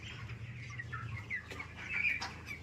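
Broiler chickens about twenty days old in a warm, lit brooding pen cluck and chirp steadily at close range, with a low continuous hum underneath and no talking.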